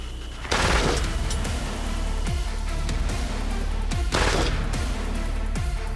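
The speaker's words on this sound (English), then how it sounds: "I'm gonna shoot." Full-auto rifle loaded with tracer ammunition fired during an outdoor hunt, sustained loud dense bursts of gunfire with a few louder cracks over steady background noise.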